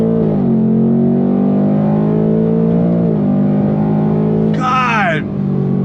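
A 2025 Ford Mustang GT 60th Anniversary Edition V8 with an automatic gearbox accelerates on throttle. The engine drone is loud and close, its pitch climbing steadily and dipping at a quick upshift, then a sharper, brighter burst comes near the end.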